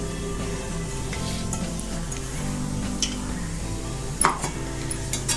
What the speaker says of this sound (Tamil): தேங்காயை திருவி வடை சட்டியில் போட்டு நல்லா வணக்கிக்கணும்